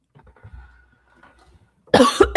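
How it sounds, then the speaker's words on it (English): A quiet stretch of faint shuffling, then two or three sharp, loud coughs close to the microphone. "that pesky cough of mine."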